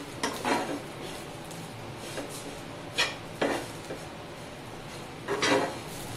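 Masala filling with sesame seeds, asafoetida and coriander being mixed in a metal bowl, with a few sharp spoon-on-bowl clinks and scrapes at scattered moments over quiet kitchen background.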